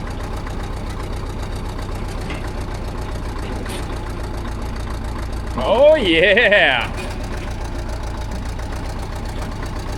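A 73-year-old CAT bulldozer engine idles steadily and loudly throughout, with a brief voice exclaiming over it around the middle.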